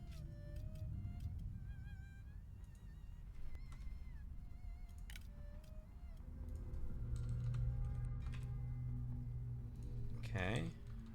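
Typing on a computer keyboard while playing Total War: Three Kingdoms, with scattered key clicks over a busy layer of game music and ambient sound, fairly faint.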